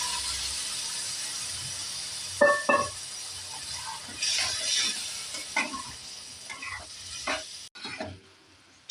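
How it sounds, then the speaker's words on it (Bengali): Chickpeas stirred into fried whole spices in a pan for Delhi-style chole, giving a soft steady sizzle with scattered scraping and clinking strokes of the spoon at a close, moderate level, with no talking. "এবার এই ছোলাটা আমি এর মধ্যে দিয়ে দিচ্ছি।"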